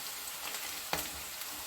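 Onion frying in a pan for lemon rice, a soft continuous sizzle with one sharp clack of a spoon against the pan partway through.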